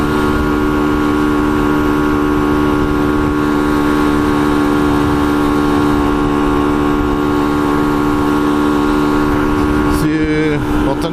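Hyosung Aquila 125 motorcycle at full throttle in fifth gear climbing a hill, a steady loud droning engine hum with strong harmonics and wind rush throughout, a brief rustle near the end.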